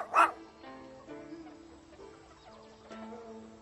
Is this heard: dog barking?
yes